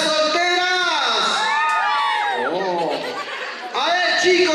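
At a wedding reception, a crowd of single women lets out a loud group shout and shrieking cheer, high voices rising and falling together in a sustained burst with laughter mixed in.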